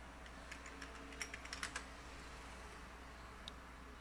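Commands typed on a computer keyboard: a handful of quiet, scattered keystrokes clustered in a short run, then a single final tap, over a steady low hum.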